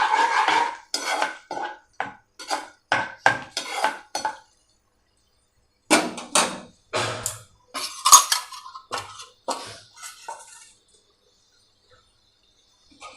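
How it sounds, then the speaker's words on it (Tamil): A spoon works through potato gravy seasoned with Kashmiri chili powder in a cooking pot, giving bursts of close scraping and metallic clinks, a short pause, then more stirring before it falls quiet. "இது நல்லா கிளறி"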